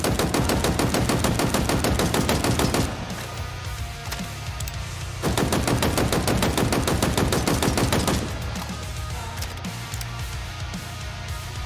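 VK-78 Commando rifle in Halo Infinite fired in loud, rapid full-auto bursts, two long strings of shots separated by a brief quieter lull, close and dense with no talking.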